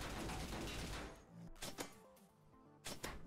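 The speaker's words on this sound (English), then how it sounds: "I can get two shots off and that's it." A gun is fired in a Roblox trash-themed game: a sustained noisy burst of fire followed by two distinct sharp shots, each well separated and standing out against quiet game background, with no talking.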